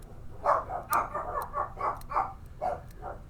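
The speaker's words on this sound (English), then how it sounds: "hopefully you can hear the dog is going crazy" A dog barks repeatedly in a steady series of muffled, mid-distance woofs, roughly two per second, over a low background rumble.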